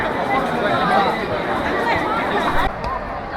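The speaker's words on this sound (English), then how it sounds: "Look at the crowds here." Dense crowd of tourists near the Forbidden Palace in Beijing, a steady loud babble of many overlapping voices and footsteps filling the space without a break.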